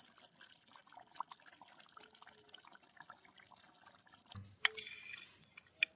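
Melted ghee is poured over freshly cooked milk halwa in a clay pot, a soft wet pour with light drips and splashes, fairly faint and close, with a sharper burst of liquid near the end.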